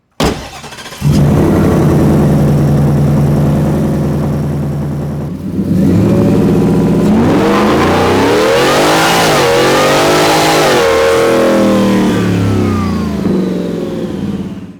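A loud Whipple-supercharged Ford F-150 pickup engine idles, then revs hard through several rising and falling pulls, roaring close by with a whining supercharger tone.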